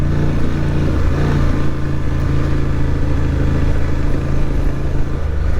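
A 2024 Honda Transalp motorcycle engine droning loud and close on soft off-road ground, its steady mid-pitched roar held throughout with slight rises in revs as traction control cuts power.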